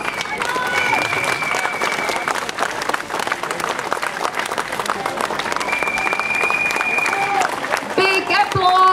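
Crowd at a U23 cycling race podium ceremony in Rýmařov applauding the Norwegian bronze medalist, loud sustained clapping throughout with sustained tones over it and a few sharp sounds near the end.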